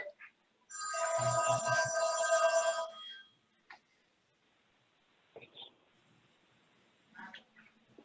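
A telephone rings once during a water pollution control authority meeting: a loud, steady electronic trill for about two seconds, followed by quiet room noise and faint, scattered voices.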